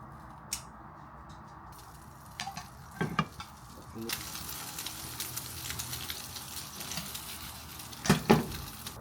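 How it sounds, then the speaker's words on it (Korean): Toast browning in a frying pan at home, with a steady low sizzle and scattered scraping and clinking of a utensil against the pan, a few louder knocks near the start and end, no talking. "토스트를 해보겠습니다"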